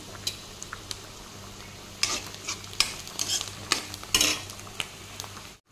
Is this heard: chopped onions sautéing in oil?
yes